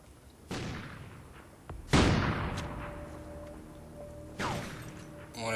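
Sniper rifle shots in a 1v1 video game match: three sharp, booming cracks spaced a couple of seconds apart, each trailing off in a long echoing decay, with faint background game sounds and no voices.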